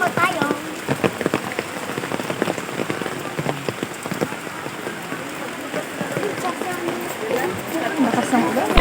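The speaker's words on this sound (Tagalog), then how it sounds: "Lakas ng ulan." Heavy rain pours steadily onto surfaces nearby, a dense constant patter that fills the whole stretch, with people talking over it.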